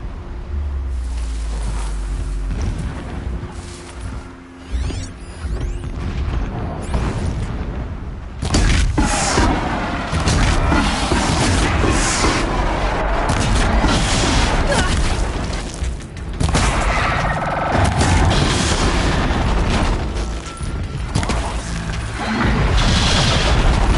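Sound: distant explosions in video game Horizon Zero Dawn

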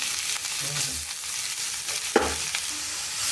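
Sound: grated carrot frying in ghee

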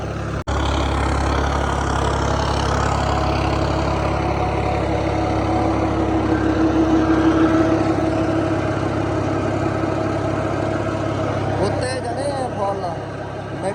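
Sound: tractor engine running

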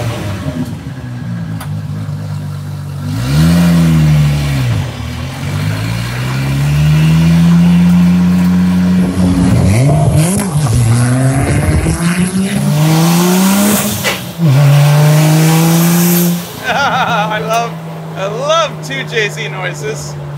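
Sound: 2JZ-swapped Dodge Charger engine revving

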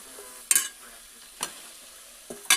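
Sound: amaranth leaves (thakara cheera) added to seasoning, frying in pan

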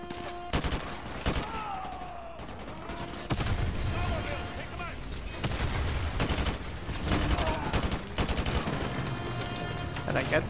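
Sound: AK rifle gunfire in video game Modern Warfare 2

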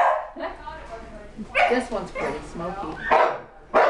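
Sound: beagle puppy barking

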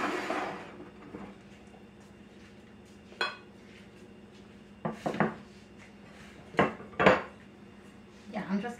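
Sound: knife spreading butter on ciabatta bread

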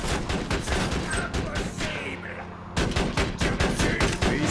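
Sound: turret firing in video game Borderlands 2

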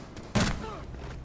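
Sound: gunshot in a video game

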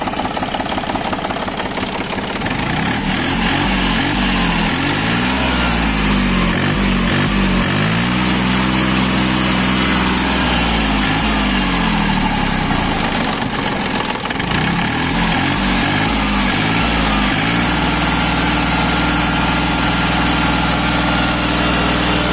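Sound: Iseki TA 270 tractor engine idling

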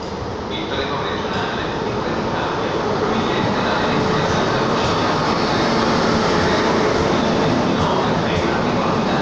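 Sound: fast Italian train passing

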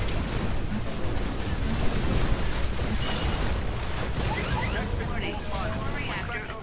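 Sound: explosion in Titanfall video game

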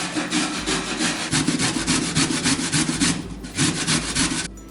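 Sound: grating carrot on the fine side of a grater

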